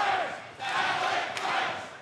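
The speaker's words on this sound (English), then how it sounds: "the Bostonians here cheering for one of their own, Alec Price" A Boston wrestling crowd at an ROH Beantown Beatdown event cheers and roars in a dense, sustained wall of voices that swells twice.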